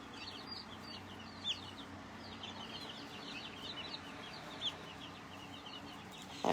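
Chickens cluck and chirp in a brooder: a steady, fairly faint stream of short calls over a low background hum, with no talking.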